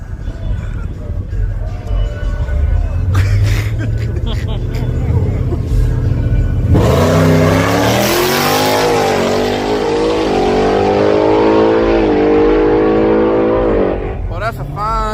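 Race car engine roaring and revving hard, a loud sustained run with rising harmonic sweeps as it accelerates through gears, with voices talking over the noise at times.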